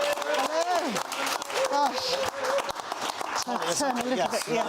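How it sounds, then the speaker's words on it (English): A studio audience applauds poet Polly Clarke on a talk show, with scattered claps mixed with cheering and whooping voices that dominate the sound, loud and close throughout. "Ladies and gentlemen, a big round of applause, please, for Polly Clarke."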